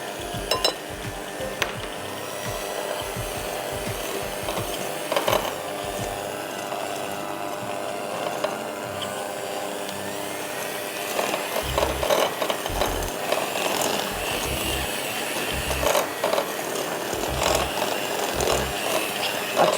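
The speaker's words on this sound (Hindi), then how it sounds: "मक्खन बीट करिए, उसमें ब्राउन शुगर डालिए," Butter and brown sugar being beaten for cardamom biscuits, a continuous mechanical whirring with rattling, clicking texture and occasional low knocks, steady and fairly close, with no talking.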